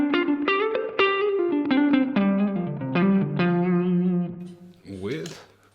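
Electric guitar heard without the GFI Enieqma EQ pedal's mid boost, picking a short melodic phrase of quick distinct notes that ends in a sliding, smeared chord, close and moderately loud.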